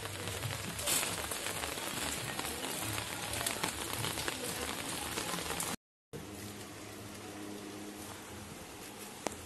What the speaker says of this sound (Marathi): पाऊस पण खूप येत आहे